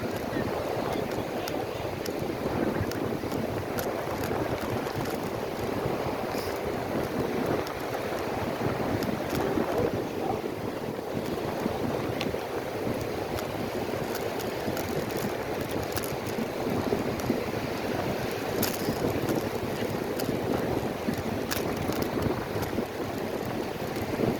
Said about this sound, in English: It's definitely south to north wind flow.